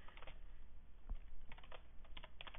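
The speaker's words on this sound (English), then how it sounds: "And now we can just start typing our objects." Fingers tap out a steady patter of quiet, close keystrokes on a computer keyboard, a few louder clicks standing out, with no talking.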